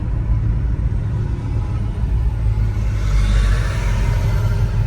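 A 1972 Chevrolet Nova accelerates with a continuous low engine rumble and road noise, steady and fairly loud throughout with a slight rise toward the end.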